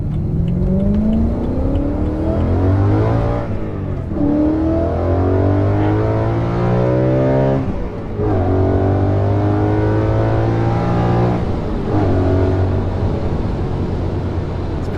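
A naturally aspirated BMW E92 M3 V8 pulls hard through repeated rising gear runs, each climb broken by a brief shift dip, loud and close from inside the moving car with no talk.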